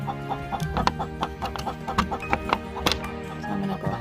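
Several chickens in a garden flock cluck in short, irregular bursts close by, overlapping one another against a soft background hum.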